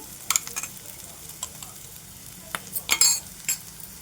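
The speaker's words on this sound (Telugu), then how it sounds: "ఈ మసాలా పొడి వేసిన తర్వాత కాస్త అటు ఇటు తిప్పుకుంటూ ఫ్రై చేసుకోవాలన్నమాట" Masala powder stirred and fried with onions in a pan for brinjal (vankaya) masala curry, a steady close sizzle under repeated scraping strokes of a spoon against the pan, no talking.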